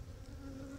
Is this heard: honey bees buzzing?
yes